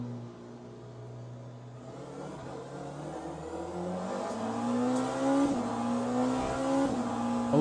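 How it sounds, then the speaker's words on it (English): A Porsche race car engine in a sim racing game, set at Monza, revs steadily and builds in pitch and loudness, its harmonics climbing toward the end with a faint hint of tire squeal, no voices over it. "Oh, this engine is louder."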